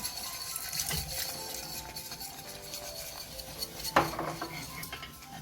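Dough being mixed with milk in a bowl for calzone pizza, quiet clinking and scraping of a utensil against the bowl with one sharper knock midway, close and faint.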